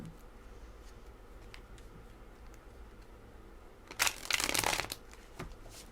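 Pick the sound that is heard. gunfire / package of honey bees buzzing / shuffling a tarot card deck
shuffling a tarot card deck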